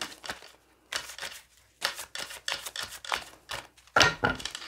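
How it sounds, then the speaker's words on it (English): Tarot cards placed out one by one on a table during a new moon reading, giving a series of short papery slaps and slides in an irregular rhythm, close and fairly quiet, with one sharper snap near the end. "I'm going to go ahead and start placing these cards out here to see what's really going on"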